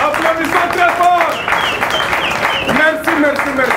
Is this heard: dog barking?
no